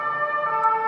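An emergency vehicle siren holds a loud, steady wailing tone for just under a second, alone and close, with no voices.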